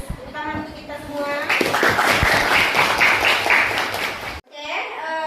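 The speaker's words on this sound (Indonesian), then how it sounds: "Tepuk tangan untuk kita semua" A classroom of children clapping together, a dense burst of close applause under a teacher's voice, then stopping abruptly before the children chatter again.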